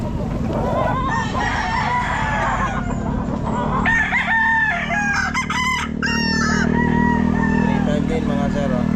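Bullstag rooster crowing at a Philippine pet market, several loud close crows and clucks over a busy background hum of other fowl and market noise.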